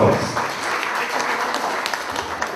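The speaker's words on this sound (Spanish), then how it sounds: "Vamos a tributarle fuertes aplausos a ella," An auditorium audience applauds to welcome a nutrition speaker at a scientific talk on anemia and malnutrition; a steady wash of clapping from many hands holds throughout, moderately loud, with a brief louder onset.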